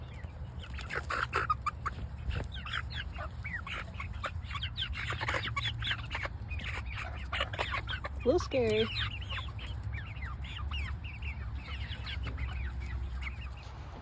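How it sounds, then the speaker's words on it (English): Chickens cluck and murmur steadily at close range while eating pumpkin, with one louder squawk midway and a person speaking briefly over them. "These chickens liking that pumpkin."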